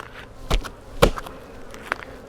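Bees buzz inside an open hive during an inspection, a soft steady drone with a few louder knocks and shuffles of frames, close by and with no speech.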